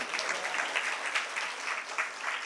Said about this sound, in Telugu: చప్పట్లు కొట్టి దేవుని స్థుతి